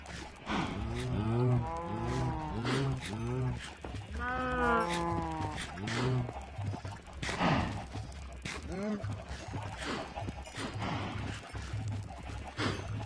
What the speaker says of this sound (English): so we'll feed the cows.